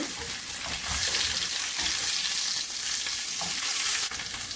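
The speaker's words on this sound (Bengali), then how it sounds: "টমেটো পেস্ট দিয়ে দেব, নেড়ে চেড়ে তেলের সঙ্গে কিছুক্ষণ ভেজে নেব।" Tomato paste fries in hot oil while being stirred, a continuous close hiss and crackle with soft scraping underneath, steady throughout and with no talking.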